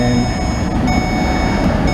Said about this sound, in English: note the ventilation system kicked on